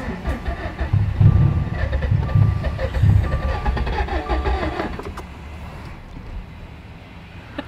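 A built Subaru STI engine starts and rumbles steadily with low throbbing pulses and rising revs, loud and close, then settles into a quieter idle toward the end.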